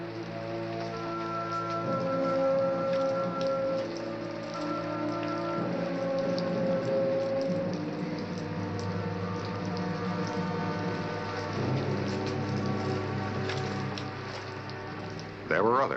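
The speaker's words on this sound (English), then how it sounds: "May 12, a rainy afternoon in Tombstone." Steady rain falls on a rainy afternoon in the Old West town of Tombstone, a constant even wash of drops under a layered music score, with no voices.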